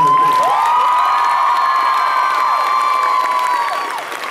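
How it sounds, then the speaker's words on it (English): An audience at the Anime Central convention, a large anime fan gathering, responds loudly, with sustained cheering, whoops and high shouts mixed with clapping that carries on steadily and then fades slightly at the end. "give your biggest round of applause for the tech crew and the Anime Central staff that put this together"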